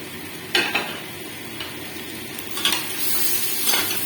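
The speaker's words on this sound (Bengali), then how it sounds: "এবার আমি এর মধ্যে ভেজে রাখা ফুলকপি আর আলুটা দিয়ে দেবো।" Fried cauliflower and potato pieces go into an oily pan with a few scraping clatters, then a spoon stirs them through a steady low sizzle, with no talking.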